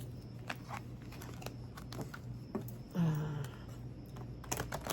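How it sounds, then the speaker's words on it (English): Tarot cards shuffled by hand in a quick, close riffle of soft papery clicks and flutters, fairly quiet, with a brief louder burst near the middle and no talking. "I'm just going to give it a quick shuffle."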